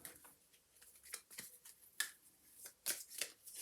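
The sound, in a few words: handling oracle cards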